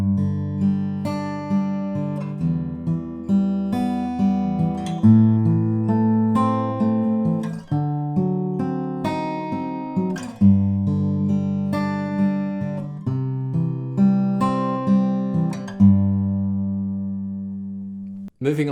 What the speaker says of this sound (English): So with all that in mind, the intro finger picked will sound like this.